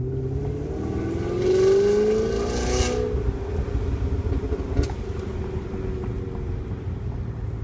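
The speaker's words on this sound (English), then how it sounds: "the first thing I love about my E39 540i is the sound that the engine makes" A 2002 BMW 540i E39 engine while driving, a close, steady droning hum that rises briefly as the revs climb and then settles back into an even cruising tone.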